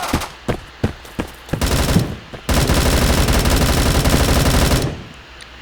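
Gunfire in the Bullet Force shooter game: a few sharp single shots, then a long loud burst of rapid automatic fire that stops abruptly, with no talk.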